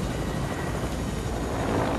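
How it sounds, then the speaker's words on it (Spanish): A Fortnite helicopter on PS4 gives off a steady, moderately loud rotor drone that holds evenly throughout with no break. "Súbete, súbete, súbete, súbete al helicóptero."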